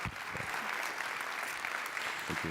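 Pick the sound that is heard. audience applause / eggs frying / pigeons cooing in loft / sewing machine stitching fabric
audience applause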